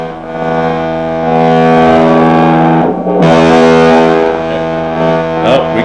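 A loud, sustained, heavily distorted tone from a 1980s Yamaha EG112 Stratocaster-style electric guitar with cheap pickups, a buzzing, harmonically rich drone with a short break partway through.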